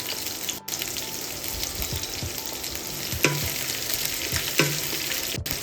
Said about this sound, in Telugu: లో ఫ్లేమ్లో పెట్టి వేయించుకోండి, హై ఫ్లేమ్లో అయితే వద్దు, మాడిపోతాయి లేకపోతే.